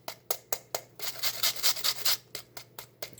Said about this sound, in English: We're going to grate some onions right in here.